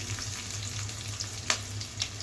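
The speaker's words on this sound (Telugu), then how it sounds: "బీన్స్ ఇదన్నీ కొంచెం ఫ్రై చేసుకోవాలి ఆయిల్లోనే." Carrot pieces, green chillies and beans fry in hot oil, making a steady close sizzle with a few sharper spits and crackles popping up now and then.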